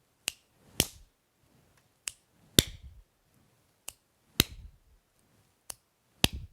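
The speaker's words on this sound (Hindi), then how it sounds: "चुटकी बजाई, फिर ताली, फिर चुटकी, फिर ताली, फिर चुटकी, फिर ताली" Finger snaps alternating with single hand claps in a steady repeating pattern, each a crisp, isolated crack close by in a quiet room, with short pauses between them.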